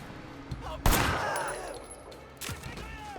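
Gunfire in the video game Sleeping Dogs lands as two sharp, loud shots about a second and a half apart, each followed by a brief decaying rumble over a low game background.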